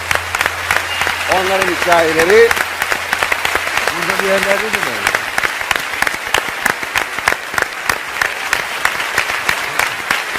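A studio audience on a Turkish television talk show claps loudly and evenly throughout, while a voice speaks over the applause during its first half.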